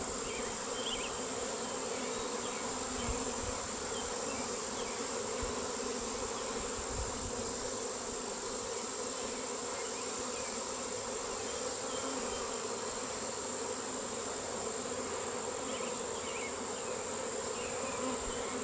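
A dense, steady buzz of many honeybees around an open hive hums continuously close by, droning without pause and with no voices.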